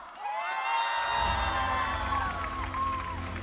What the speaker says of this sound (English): I want to hear a big cheer for them